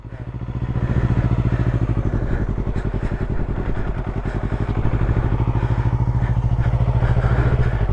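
A motorcycle ridden by a learner, its engine chugging loudly and close in a fast steady pulsing thump that holds throughout.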